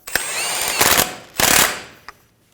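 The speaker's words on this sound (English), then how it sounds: "Install the axle nut," A power impact tool rattles in two loud bursts, each about half a second, tightening the axle nut while replacing the left front CV axle on a 2003-2008 Honda Pilot, with a short clack after.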